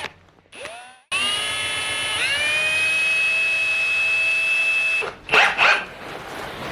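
A power drill with a small bit whines at high speed into a Lynx GLS 3500, loud and close, with one brief spin-up followed by a sustained run of several seconds. It ends in a few short bursts.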